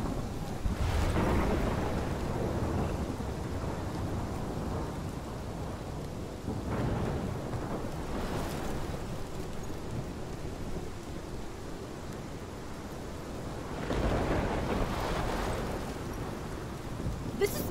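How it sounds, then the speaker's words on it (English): A heavy thunderstorm in the video game Life Is Strange rolls on, with rain hissing steadily while several loud thunder crashes break out and fade across the stretch, and nobody speaks. "Storm."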